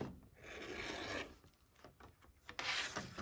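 A rotary cutter slices a 1.5-inch strip of quilt fabric on a cutting mat, a close, soft rasping drag lasting about a second, then lighter scraping and another cut.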